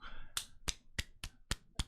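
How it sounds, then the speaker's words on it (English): Hands clap six times in a steady, quick rhythm, sharp and close, with a faint voice before the first clap. "That's me clapping my hands here for Armor Shot"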